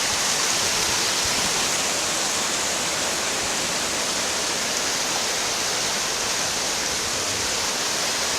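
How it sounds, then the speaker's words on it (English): Water pours down a waterfall at Boulder Caves, a dense, constant hiss and rush of falling water heard close up, alone and unbroken throughout. "as you can see, there's a nice waterfall here."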